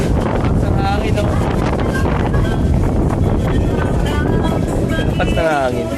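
Strong gusting wind buffets the microphone in a loud, continuous roar during a Honda PCX 160 scooter ride in Dingalan, Aurora, with voices faintly audible underneath.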